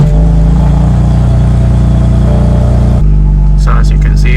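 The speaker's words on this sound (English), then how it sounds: "Turning the car on" A 2016 BMW M4 engine comes to life with a loud, steady low drone up close. The tone shifts abruptly near the end, where faint chimes or beeps appear.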